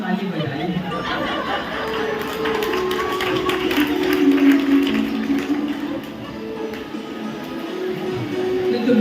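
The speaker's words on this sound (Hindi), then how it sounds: "पहली बार दोस्तों ने ताली बजाई" Audience applause at a Hindu Bhagavat Katha religious discourse, a steady wash of clapping and crowd murmur lasting throughout, moderately loud and fairly even in level.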